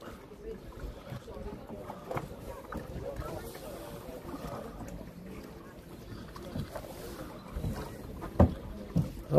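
A hand-powered boat glides across a lake in Slovenia where engines are banned, giving a steady low wash of water and wind, with people talking nearby and a few louder knocks near the end.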